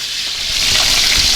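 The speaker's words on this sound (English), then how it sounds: "I've turned the heat up to high so that I can brown off the oxtails themselves" Oxtails browning in a hot pan over high heat give a loud, steady sizzle that swells slightly toward the end, close and with no talk over it.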